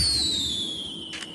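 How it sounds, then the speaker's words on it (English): A firework in the GTA video game whistles with a descending shriek and ends in a brief pop, quick and fairly loud. "here's your fireworks"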